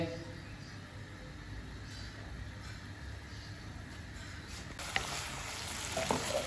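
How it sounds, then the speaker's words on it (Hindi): Okra frying in ghee in a wok gives a steady soft sizzle with occasional stirring clatter, louder toward the end, and a voice talking now and then. "ये भिंडी मैंने डाल दिया इसमें और घी में हम अच्छी तरह से इसको फ्राई करेंगे"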